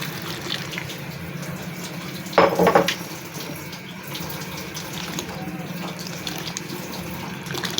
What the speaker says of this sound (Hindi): अब इसमें डाल देते हैं ठंडा पानी।